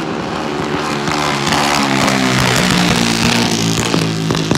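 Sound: outlaw junior dragsters racing

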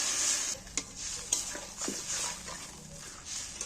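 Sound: water added to fish curry sizzling in pan

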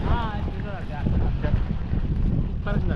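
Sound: wind blowing on a hillside in the rain

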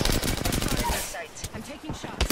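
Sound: gunfire in the video game Apex Legends

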